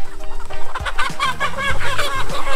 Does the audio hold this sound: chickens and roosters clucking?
yes